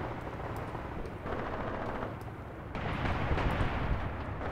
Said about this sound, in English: Especially now with the Panzer IIs, with their autocannons opening up on the defenseless infantry